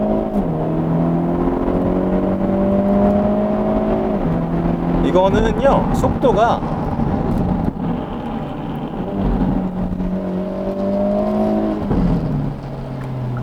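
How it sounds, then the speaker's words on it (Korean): A Hyundai Avante N accelerating hard in N mode: a loud engine note climbs through the gears, with brief crackles from the exhaust at the shifts, while someone talks over it from inside the car. "배기구에서 막 터지는 소리 들리죠."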